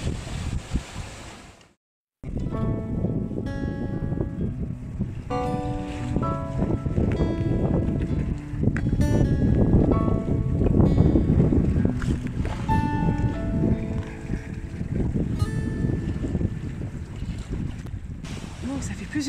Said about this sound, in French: La mer est costaud. Il y a 15-20 nœuds de vent toujours,